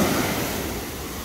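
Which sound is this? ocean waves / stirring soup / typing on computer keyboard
ocean waves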